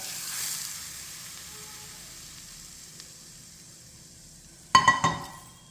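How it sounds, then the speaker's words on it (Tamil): Asafoetida powder splutters faintly in hot oil for a turmeric pickle, a low steady hiss that ends in a brief loud burst of metallic clinks and crackling. "பெருங்காயத்தூள் சேர்த்துட்டு நல்லா பெருங்காயம் பொரிஞ்சு வரட்டும்."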